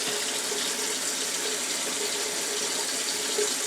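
A faucet runs at full, steady flow into a bathroom sink while a face is splashed and wetted, a loud, close, continuous rush of water with no talking.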